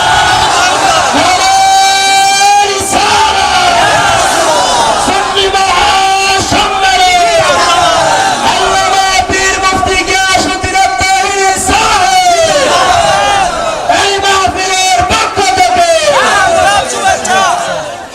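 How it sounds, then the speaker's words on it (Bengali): A large crowd chants slogans in loud, repeated unison bursts at an open-air Islamic religious sermon gathering, the chanting continuing steadily throughout with voices rising and falling in rhythmic waves. "স্লোগান দেন।"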